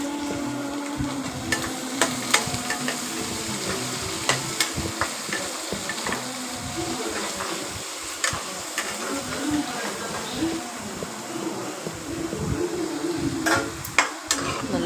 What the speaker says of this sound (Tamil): வெங்காயம், தக்காளியை போட்டு நல்லா வதக்கி விடுங்க.